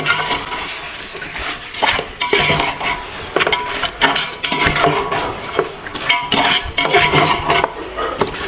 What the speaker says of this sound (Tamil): இப்போ ஒரு ஒரு 2 நிமிஷம் இதை போட்டு மசாலாவில் பரட்டிட்டேன்.